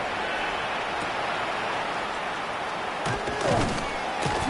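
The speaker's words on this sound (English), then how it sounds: "And he drives this into the pouring rain." Steady pouring rain in a Madden football video game hisses as a dense, broadband wash throughout, with a few louder thuds and crowd-like swells near the end.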